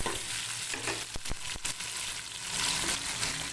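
Onion and tomato fry together in a pan for hotel-style moong dal, a steady close sizzle broken by a few sharp scraping stirs near the middle, with no voices.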